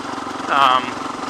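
A 670 big-bore motorcycle race engine with a stage 2 cam runs with a rapid, pulsing beat, swelling briefly louder midway. It sits under a faint voice.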